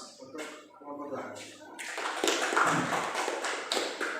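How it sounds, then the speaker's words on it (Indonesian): Students in a classroom applaud their study group, a dense patter of clapping that starts after a quieter stretch with a voice and carries on steadily at moderate volume. "Berikan aplaus untuk kelompok."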